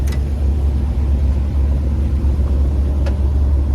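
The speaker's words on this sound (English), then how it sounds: "This is an FT engine, which is a commercial engine." Ford FT 359 commercial V8 with a Holley 4412S carburetor idles warm, a steady low rumble with an even, throbbing pulse and no talking over it.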